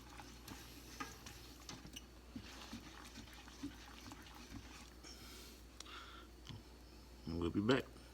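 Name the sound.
stirring roux in a pan for gumbo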